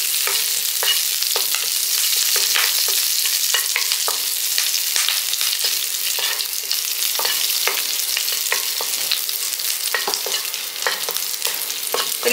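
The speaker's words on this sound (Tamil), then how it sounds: "எண்ணெயிலே நீங்கள் வதக்கும் போது நல்லா ரோஸ்ட் ஆகிடும்" Curry leaves fry in hot oil in a pan for a garlic podi, giving a continuous bright sizzle broken by frequent crackles and stirring scrapes, close and steady throughout with no talking.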